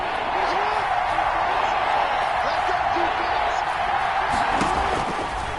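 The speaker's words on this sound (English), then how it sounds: "the crowd getting into it as we come up on a big 3rd down" Steady stadium crowd roar with cheering in an American football video game on PS4 ahead of a big third down, continuous and fairly loud throughout with faint commentary-like voices underneath.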